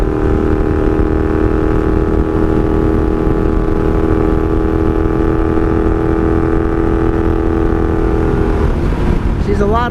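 A 1982 Honda Magna V45 VF750C motorcycle engine runs loudly and steadily at cruising speed with an unbroken droning hum, ridden on the road with a clutch losing pressure.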